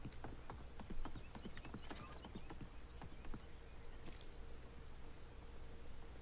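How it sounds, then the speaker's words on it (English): Horse hooves clip-clopping in the video game Realm Royale, a steady run of quick hoofbeats heard fairly close over constant game ambience. "I heard a horse."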